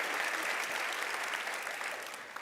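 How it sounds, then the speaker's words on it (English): Audience at a TEDxLondon event clapping together, a soft, even wash of applause from a hall that fades gently near the end. "Yes, round of applause."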